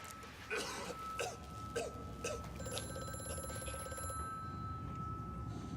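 An old telephone rings in the game Amnesia: A Machine for Pigs, several faint ringing bursts at a steady rhythm with a humming tone beneath, heard at a distance in a quiet room.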